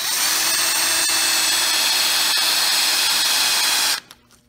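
A power drill whines loud and steady for about four seconds as its bit bores into the center of a busted bolt, then cuts off abruptly, leaving a brief quiet tail.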